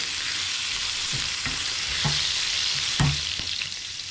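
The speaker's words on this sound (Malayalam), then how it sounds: "സവാള ഇട്ട് ജസ്റ്റ് ഒന്ന് മിക്സ് ചെയ്യാം" Sliced onions fry in a pan with ginger garlic paste for egg rice, a constant close sizzle under a few soft stirring knocks and scrapes, with no voices.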